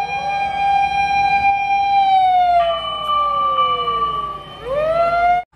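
A toy red fire truck siren wails loudly and alone, its electronic tone sliding down in long sweeps, stepping up partway and then rising again before it cuts off abruptly.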